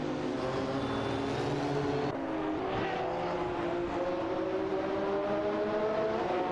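Race cars in a racing video game, a Jaguar XJ220S and a McLaren F1 LM battling closely for position, with steady loud engine drone and rising revs throughout, a shift in tone partway as one gears up.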